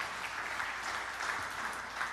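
A church congregation claps warmly in steady, dense applause that stays even throughout, heard alone with no voices on top.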